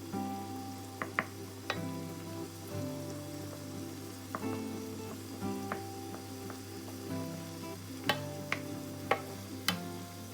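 Fresh shrimp fry in a pan with a soft, continuous sizzle, broken by scattered sharp pops and light clinks of a utensil against the pan, with no voices.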